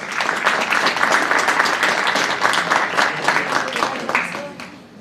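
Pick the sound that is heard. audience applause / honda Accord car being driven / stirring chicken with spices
audience applause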